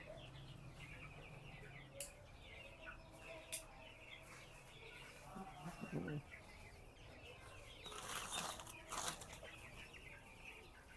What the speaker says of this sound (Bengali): মুরগি একটু খ্যাক খ্যাক করতেছে